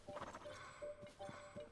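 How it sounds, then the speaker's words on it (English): Horse hooves clip-clop at a gentle, uneven pace in The Legend of Zelda: Tears of the Kingdom, quiet and close, with a faint tonal game sound drifting behind. "Oh wait, that's my horse."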